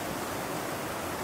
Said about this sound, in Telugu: వాటర్ సౌండ్ చూడండి ఎలా వస్తుందో.